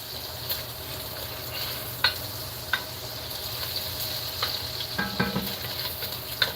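Thick-sliced bacon fries in a pan, giving off a soft, steady sizzle with a few sharper pops and clicks scattered throughout, heard up close with no talking.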